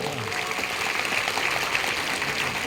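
Steady, fairly faint applause from an audience, a dense patter of clapping with no pauses.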